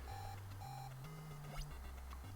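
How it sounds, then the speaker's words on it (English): Jason alarm from the Friday the 13th NES game: a chiptune sequence of stepped electronic beeps and tones, repeating in a rising pattern, faint and alone without talk. "The Jason alarm is informing us he is active once again."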